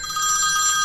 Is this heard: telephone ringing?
yes